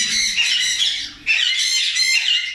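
Parrots in a breeding aviary, rubino and red-eyed birds among them, squawk loudly and harshly at close range in two sustained, grating bursts with no talking.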